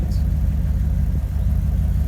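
A 1995 Jeep ZJ with the 5.2 liter V8 idles with a steady, deep exhaust rumble, close and continuous for about two seconds with one brief dip, no talk over it.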